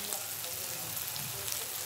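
Garlic paste hits hot oil already loosened with ginger paste, giving a dense, steady sizzle with no pauses over a couple of seconds.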